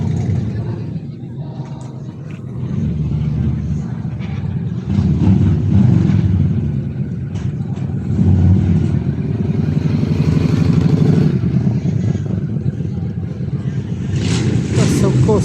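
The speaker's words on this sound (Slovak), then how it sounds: "A tuto sa už jedna motorčička naštartovala." A motorcycle at a bikers' rally starts up and revs, its engine rumbling steadily in the middle distance under constant crowd chatter and outdoor bustle.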